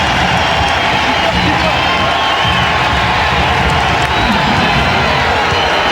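A roaring basketball arena crowd cheers continuously and loudly during a 1999 Phoenix Suns at Portland Trail Blazers playoff game, with a broadcast commentator talking over the steady wall of noise.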